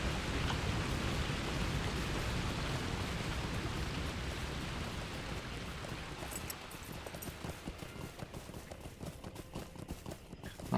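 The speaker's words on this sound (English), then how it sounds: "Waterfall leading down into the bog." A waterfall in Lord of the Rings Online pours down into a bog, giving a steady broadband rushing wash throughout, with fainter rhythmic hoof-like thuds from a horse becoming more noticeable toward the end.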